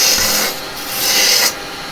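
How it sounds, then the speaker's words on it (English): A roughing gouge tapers a piece of wood spinning on a lathe, giving two loud, close, rasping scrapes separated by a brief easing-off. "I'm just going to taper it a little bit with the roughing gouge"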